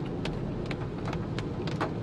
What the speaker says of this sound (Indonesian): Hari masih hujan.